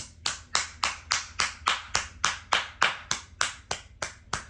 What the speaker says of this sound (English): Round of applause for Karen Motts for accepting what is